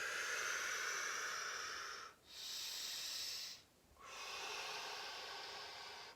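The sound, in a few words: deep breathing during chair yoga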